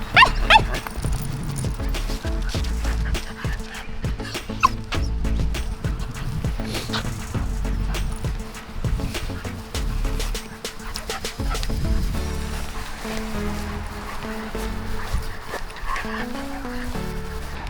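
Dogs barking at a dog park, repeated close yaps and barks with some whimpering, loud and frequent against open outdoor ambience.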